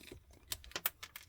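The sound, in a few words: wire stripper pliers cutting solid 14 gauge wire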